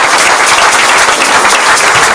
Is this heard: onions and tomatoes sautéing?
no